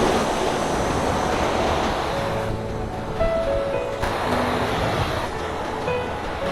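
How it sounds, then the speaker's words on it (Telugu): Surf pounds a crowded beach with deep water, steady and loud, carried on strong gusting wind that roars across the whole stretch with no talk. "బీభత్సంగా అలలు కొడుతూ ఉన్నాయి"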